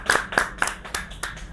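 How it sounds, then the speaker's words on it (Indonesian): A small group claps hands in a studio-style setting to welcome two guests, a few distinct, fairly close bursts of claps forming a brief, loose rhythm. "Oke, tepuk tangan dulu."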